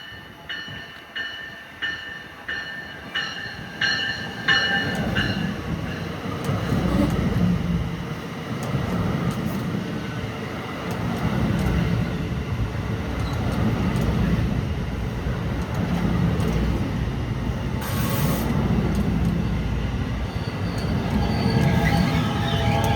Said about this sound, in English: Trains in both directions making a stop here.